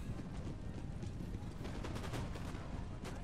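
Musket volleys and battle din from the Empire: Total War strategy game sound as a dense, continuous rumble of distant crackling gunfire, heavy and unbroken throughout.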